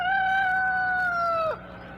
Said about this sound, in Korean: 다음날 새벽 장닭 울음소리가 들릴 때쯤이면